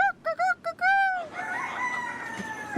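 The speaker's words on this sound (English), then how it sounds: "The rooster just keep crowing and crowing." A rooster crows near a tree where chickens roost, a short series of clucking calls building into one long, loud crow that fades into outdoor background noise, with no talking.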